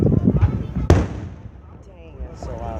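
A single loud, sharp firework bang bursts out amid people chatting, followed by a fading rumble and more talk.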